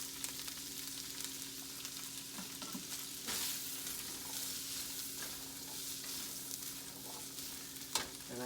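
Spices fry in hot oil for curried sundal, giving a steady close sizzle with occasional scrapes and knocks of stirring in the pan, no voices present.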